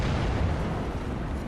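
A 105 mm artillery shell explodes on a war front, producing a loud, dense rumbling blast that fills the short moment without pause.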